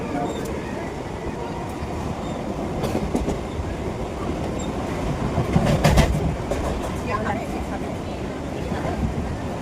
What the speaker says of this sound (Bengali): দেখো ট্রেনে উঠে গেছি